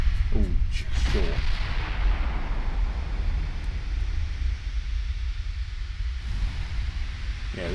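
Heavy 17-inch naval guns fire in a warship battle game: deep, sustained booming rumble with a couple of sharp shot bursts early and another near the end, loud and continuous.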